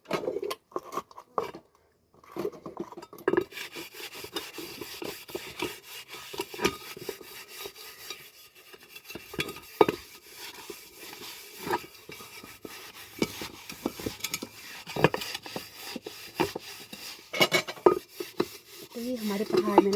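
Hand scrubbing of a soot-blackened, clay-coated cooking pot in a mountain village home, giving a steady run of rough rubbing and scraping strokes with occasional clanks, close and fairly loud, with a few brief sounds of people talking.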